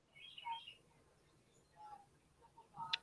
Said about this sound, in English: the bird just showed up again in my backyard